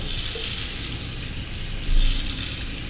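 Water runs steadily from a faucet into a gunmetal gray sink in a home kitchen, a close, continuous hissing splash with a brief louder burst partway through.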